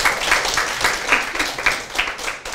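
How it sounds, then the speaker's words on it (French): Audience applause at a religious lecture, a steady patter of clapping from a modest room of listeners, moderately close and continuous with no talk over it. "je pense que vous pouvez l'applaudir, Shaili."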